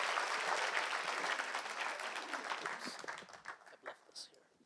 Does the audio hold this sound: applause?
yes